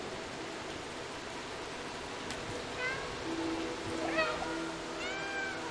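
A cat meows in the Stray video game, three short, fairly faint mews spaced a second or so apart over a steady hiss of background ambience.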